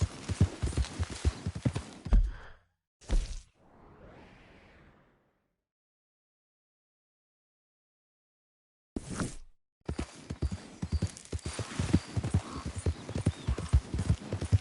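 Horse hooves gallop in Red Dead Redemption 2, a fast clattering of hoofbeats that stops abruptly, gives way to a brief gap and quiet, then resumes at full pace.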